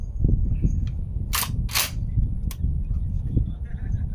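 Sharp, loud gunshot-like cracks from a Smith and Wesson .44 magnum revolver, two close together and a shorter one after, each a brief broadband burst over steady low outdoor rumble.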